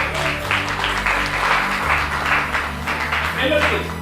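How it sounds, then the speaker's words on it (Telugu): A church congregation claps loudly together during a sermon, a steady crowd of hands sustained throughout, mixed with a speaking voice and background music. "గట్టిగా చప్పట్లు కొట్టండి."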